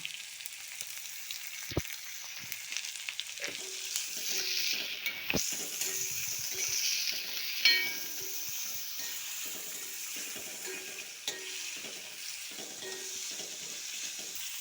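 Onions sautéing in a pan for moru curry, a continuous soft sizzle with repeated scraping and stirring strokes and a few sharp clinks of a utensil, close up and without talk.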